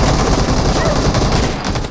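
Gunfire in the mobile shooter BGMI, a rapid burst of automatic shots crackling densely for two seconds, loud and close, with no talk over it.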